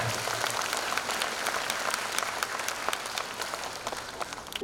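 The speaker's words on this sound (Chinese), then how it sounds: "掌声鼓励一下" A crowd of families claps at a kindergarten joint graduation ceremony, a dense, steady wash of applause from many hands in a hall, gradually easing toward the end.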